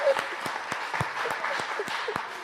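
A church congregation applauds during a French-language worship service: steady, dense rhythmic clapping at close range, with some voices calling out underneath.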